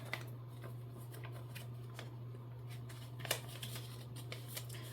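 A creased twenty-dollar bill being folded by hand, with soft papery crinkles and a few sharp crackles over a steady low hum, faint and close, no talking.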